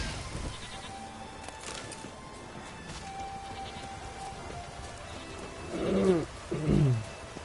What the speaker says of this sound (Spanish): Uy, cabras, cabras, cabras, cabras, cabras